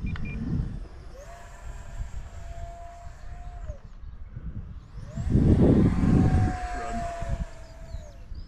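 A Viper model airplane's electric motor whines past in flight, rising and falling as it passes twice, with wind noise and a nearby voice briefly underneath.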